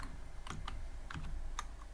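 Python code being typed on a computer keyboard: a handful of soft, close key clicks in an uneven rhythm over a faint room hum, with no talking.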